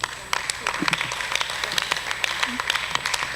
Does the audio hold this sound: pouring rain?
no